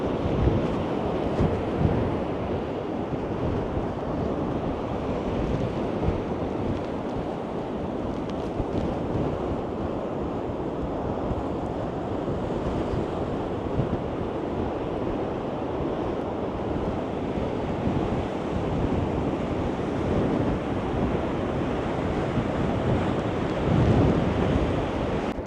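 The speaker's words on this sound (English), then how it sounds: "And here's the sea, and it's pretty choppy." Choppy sea waves surge and break steadily along a Scottish coast, with constant gusting wind buffeting the microphone in a loud, unbroken roar.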